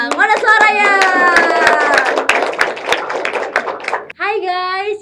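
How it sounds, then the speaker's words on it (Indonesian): Junior high school students at a school talk show clap energetically in a burst of close, sharp hand claps, with a lively voice speaking over and after the applause. "Ayo dong kasih tepuk kayak sekali lagi yang semangat banget."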